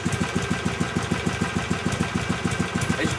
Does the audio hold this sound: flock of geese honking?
no